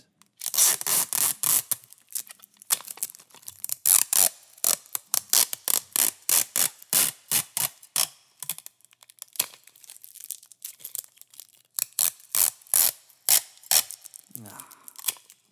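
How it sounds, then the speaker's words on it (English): Packing tape pulled off the roll and pressed onto a package, a long run of sharp, rhythmic ripping strips close to the microphone, loud and repeated many times, with no speech. "taping up that package you want to send to your best friend"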